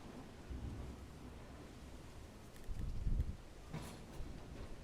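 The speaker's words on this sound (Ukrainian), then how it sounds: "Така буря взялась. І дощик по, тако по каплині пролітає." Distant thunder rumbles low and heavy, swelling around the middle, over a steady hiss of rain falling throughout.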